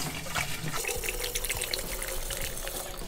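Rum is poured into a hunch punch mix, giving a steady liquid gurgle and trickle that carries on for several seconds with no break.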